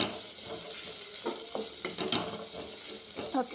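Turkey berries sauté in hot oil in a pan, a soft steady sizzle with a few scraping stirs and light clinks, no talking.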